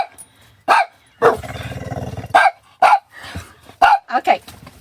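Dog barking up close in a home setting: several short, loud barks with growly, roaring tones in irregular bursts, one longer growling stretch, voices mixed in.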